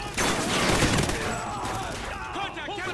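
Rapid bursts of gunfire in the video game Call of Duty Ghosts, close and loud at the start and then thinning into scattered shots under game voices and effects.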